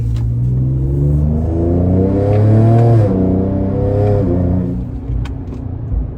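A deep Ford Ranger Raptor twin-turbo V6 petrol engine with dump pipes revs up loudly with a throaty, rumbling exhaust, rising in pitch then settling back to a heavy idle.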